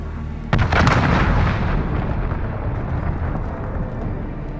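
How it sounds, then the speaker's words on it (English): Cruise missile strike in Call of Duty Modern Warfare II multiplayer: a sudden loud boom at half a second swells into a dense, rumbling roar of explosions that slowly decays over several seconds. "Allied cruise missile away."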